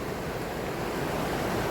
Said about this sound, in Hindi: ये ऊपर पहाड़ों से नदी आती है,